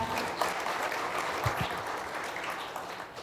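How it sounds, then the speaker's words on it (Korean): Applause from the members at a construction association's general meeting, a steady wash of many hands clapping at moderate distance throughout. "여러분 큰 박수 부탁드립니다."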